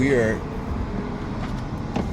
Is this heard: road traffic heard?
yes